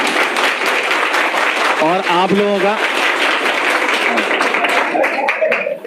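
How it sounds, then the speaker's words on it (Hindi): Loud applause from a class of students at a live coaching session, a dense continuous roar of clapping with voices shouting and talking over it throughout. "फिर जोरदार तालियां रितेश सर के लिए"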